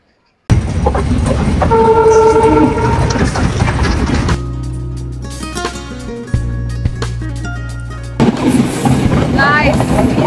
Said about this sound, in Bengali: তো আবারও একটা ট্রেন জার্নি করতেছি আমরা